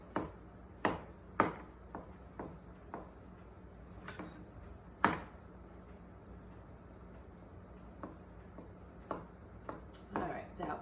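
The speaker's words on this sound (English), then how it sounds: "I have a knife here that I am going to cut up about half a cup of blue cheese crumbles" A knife cutting blue cheese crumbles on a board, a sparse run of sharp, distinct taps at an uneven pace, some louder than others, in a quiet kitchen.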